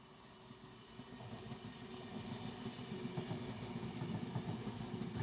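A freight train rumbles past at a distance, its low clattering roll gradually growing louder and steadier over several seconds.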